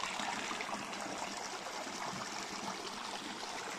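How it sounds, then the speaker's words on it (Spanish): A river flowing past in a natural outdoor setting after rain, heard as a steady, dense rush of moving water, fairly close and constant throughout, with no voices. "pasa el río"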